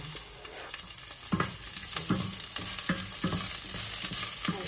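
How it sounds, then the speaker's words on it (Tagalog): Onion and garlic sauté in hot oil in a pan, with a constant close sizzle broken by a steady rhythm of spatula scrapes and stirs. "higigisa ko ang sibuyas at saka bawang"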